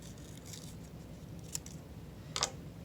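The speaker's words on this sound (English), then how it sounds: "if you want to cut out a small little circle" Scissors snip a small paper circle out for a Day of the Dead skeleton craft, giving two brief, quiet cuts against a faint background hiss.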